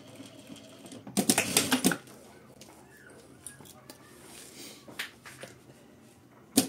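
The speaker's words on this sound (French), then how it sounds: "Sécurise le tout en réalisant une seconde couture horizontale 1 cm en dessous." A sewing machine stitches a horizontal seam on fabric in a short, loud rattling burst, followed by quieter handling noises and a few scattered clicks.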